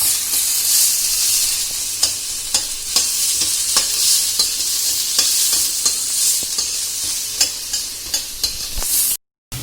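Vegetables sauté in a hot pan with a constant loud sizzle, broken by regular light scrapes and taps of a stirring utensil, close up and without speech.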